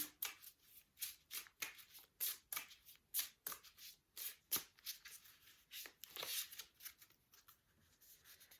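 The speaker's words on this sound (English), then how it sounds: "we'll give the cards a little bit of a shuffle" Quiet, repeated riffling bursts of a deck of cards being shuffled up close, arriving in an uneven rhythm of quick flutters.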